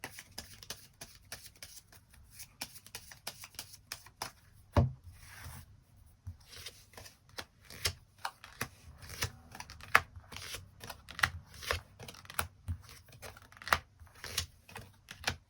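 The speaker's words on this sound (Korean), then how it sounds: "카드 뽑아보도록 하겠습니다" Tarot cards are shuffled and drawn by hand in a quiet room, giving soft scattered taps and riffling clicks with a brief louder flick partway through, close and faint, with no voices.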